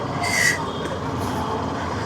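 A train at JTB Nagar railway station in Mumbai gives off a steady, close rumble with a brief high squeal near the start.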